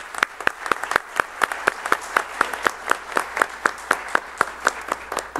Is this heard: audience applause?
yes